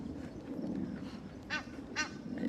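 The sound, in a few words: goose honking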